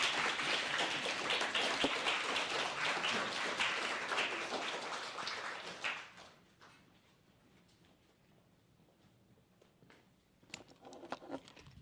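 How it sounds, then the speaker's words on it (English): Audience applause for students at an academic event, dense clapping for about six seconds that fades out, then quiet room noise with a few scattered claps and rustles near the end. "I would like to call for giving all the students a great applause for their great job finishing this"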